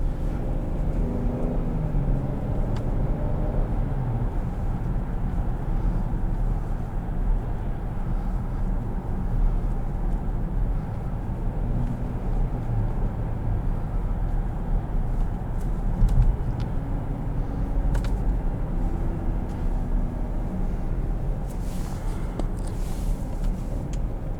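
A 2020 Cadillac XT6 Sport SUV drives on with a steady, moderately loud road and engine drone while its 9-speed automatic is shifted by metal paddles, the cabin hum staying even throughout.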